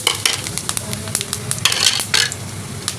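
Whole spices, including black pepper, star anise and cumin seeds, frying in hot oil in a pot for a desi chicken stew, with a steady close sizzle, crackling pops and occasional stirring scrapes throughout.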